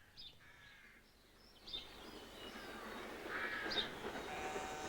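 British Railways 7F steam locomotive 53808 approaching from the north past the signal at Cole on the Somerset & Dorset line, a rumble that swells steadily louder while crows caw nearby.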